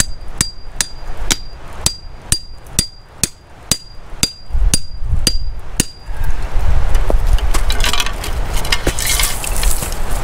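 A hammer strikes bedrock about a dozen times at a steady, ringing rhythm, then a burst of crunching and scraping as pieces break away.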